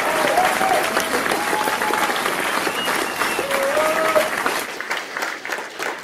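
An audience at a political rally applauds steadily, a dense sustained wash of clapping from a large crowd with a few cheers and whistles rising above it before it thins out near the end.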